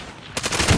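Gunfire crackles in a sniper video game amid a contested match, a quiet lull giving way to a dense burst of rapid shots from about the midpoint, growing louder toward the end.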